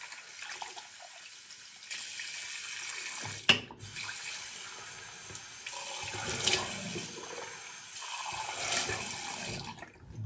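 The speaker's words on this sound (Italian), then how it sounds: "Sciacquiamo i ferri del mestiere." A tap runs into a sink while shaving tools are rinsed under it, a close steady splashing stream that shifts as objects pass through the flow, with a brief clunk early on.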